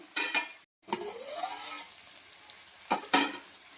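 Small pumpkin pieces cooking in a pot, a soft bubbling simmer with a few sharp clinks and knocks of a utensil against the pot, a brief silent gap near the start.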